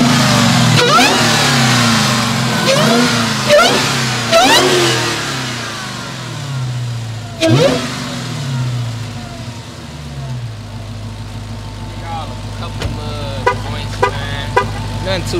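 A 2023 Dodge Challenger Hellcat Jailbreak with a Legmaker intake fires up and roars through loud repeated revs, then settles into a deep rumbling idle with a few sharp throttle blips, heard up close.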